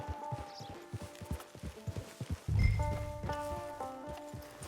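Horse hooves clip-clop in the video game Red Dead Online, a steady rhythmic run of hoofbeats that gives way to swelling game music and sustained tones.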